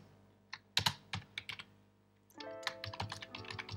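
Computer keyboard typing while writing PHP code, close and quiet: a few scattered keystrokes first, then a brisk, denser run of clicks, with no speech.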